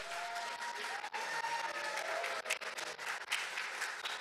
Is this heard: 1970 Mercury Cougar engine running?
no